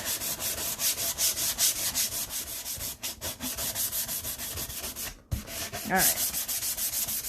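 A hand sanding block rubs close up in quick, steady back-and-forth strokes, with a short pause near the end before the scraping resumes and a voice briefly speaks.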